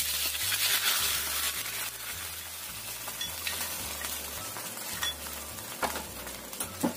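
Oyster sauce and cornstarch mixture bubbling in a pan, a steady close sizzle with occasional spatula stirs and light clinks, over a low pulsing hum, with no voices.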